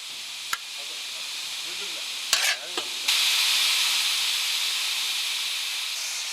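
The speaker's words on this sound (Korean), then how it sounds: "밥하는 기계에서도 김이 뿜어져 나오기 시작한다" Steady loud hiss of steam venting from a large rice cooking machine in a military mass kitchen preparing food for thousands, with a few sharp clatters near the start before the continuous hiss takes over.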